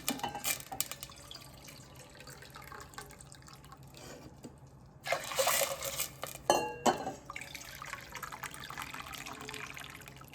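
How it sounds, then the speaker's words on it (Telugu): Water poured into a pot of rice and lentils for pongal, quiet splashing and dripping with a couple of fuller pouring bursts midway, faint and close, no voices. "ఒకటికి నాలుగు పోస్తున్నాను నీళ్ళు"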